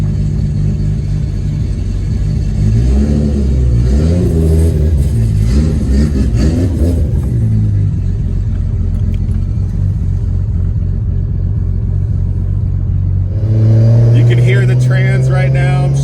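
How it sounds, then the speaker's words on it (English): A Nissan R32 GTR fitted with straight-cut gears, heard from inside on a drive as a loud, close engine rumble with rising and falling revs and gear whine, swelling again near the end. "I'm about to take you on a little drive so you can hear the straight cut gears"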